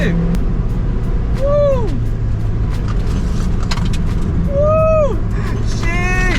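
A stock-suspension Mazda MX5 driven hard around a race track, a loud steady engine drone with rising and falling tire squeals, while excited passengers whoop and shout over it.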